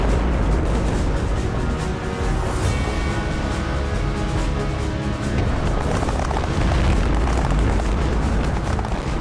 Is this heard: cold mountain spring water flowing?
no